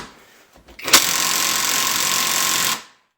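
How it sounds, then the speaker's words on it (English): A cheap Makita knockoff impact driver tightens a bolt, starting with a few short bursts, then a loud, steady, close hammering rattle for about two seconds before it cuts off. "First up, I'm going to have this tighten it as much as it can"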